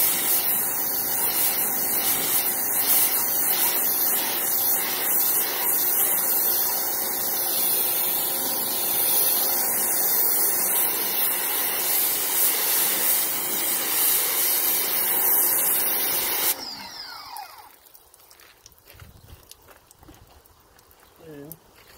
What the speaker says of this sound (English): You take it and you just rinse it.